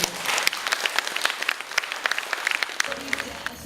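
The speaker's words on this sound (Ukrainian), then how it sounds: "діти варті того, аби ви нагородили їх гарними оплесками" Applause from an audience at a special boarding school event honoring children, a lively burst of many hands clapping with sharp individual claps standing out, steady throughout before easing slightly at the end.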